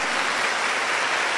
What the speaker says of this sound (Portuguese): E eu queria que você aplaudisse com toda a força a salvação que vem do alto